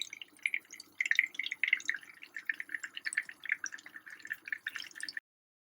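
Bulgarian meatballs fry in a pan, giving a crackling, popping sizzle of rapid bright spits that rise and fall before stopping abruptly.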